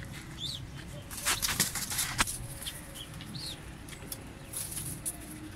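Pigeons, including Sialkoti birds, flap their wings in a burst of papery flutters near the middle, with a few fainter wingbeats and soft bird calls around it.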